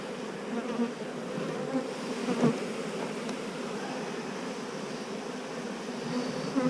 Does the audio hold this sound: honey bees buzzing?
yes